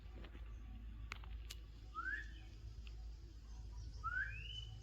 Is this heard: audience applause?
no